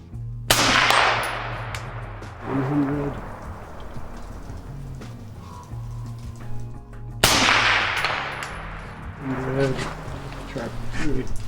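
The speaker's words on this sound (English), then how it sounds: "Confirm on some steel, maybe shoot it out a little." Two loud, close rifle shots at an outdoor range with steel targets, each followed by a long echoing tail and a faint distant ring, with people talking between them.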